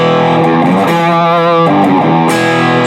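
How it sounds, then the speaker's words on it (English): Electric guitar played through a NUX Cerberus multi-effects pedal set to a gain-heavy distortion, loud sustained chords ringing with a thick, saturated tone and no talking. "So now we have a nice distortion sound already"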